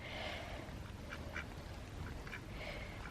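A duck quacks a few short times, faint and somewhat distant, over steady outdoor background noise at a campsite while it is being fed granola.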